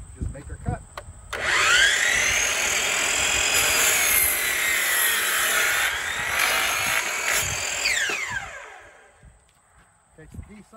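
A power saw cuts through a deck stair board, a loud sustained whine lasting several seconds before spinning down, with faint handling noises before and after.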